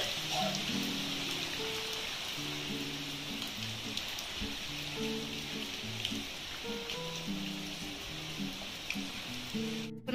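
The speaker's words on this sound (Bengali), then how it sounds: "ওখানে বৃষ্টি হচ্ছে দেখলে তোমরা" Steady rain falls outdoors in a soft, continuous hiss at a moderate distance, with faint household sounds and low murmuring voices in the background.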